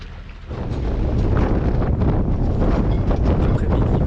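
Strong wind gusts on a boat crossing a bay at sea near Cavalaire, a loud roaring rush battering the microphone, swelling sharply after a brief quieter start and staying constant.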